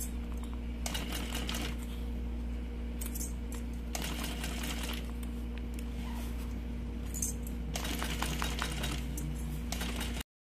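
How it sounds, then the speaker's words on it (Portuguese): Sewing machine stitching a double cosmetic bag, bursts of rapid mechanical whirring and clatter over a steady motor hum, several runs separated by short pauses. "Ó, vai tirando clipes e vai costurando."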